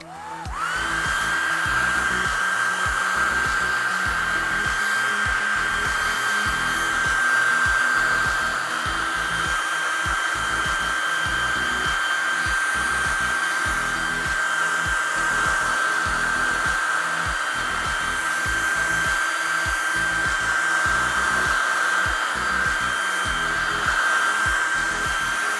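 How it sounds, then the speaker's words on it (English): A blow dryer drying wet purple paint on a craft project runs steadily and loudly up close, a constant whirring hum with a high whine that holds unbroken from start to finish. "Now let's use our blow dryer and dry the purple."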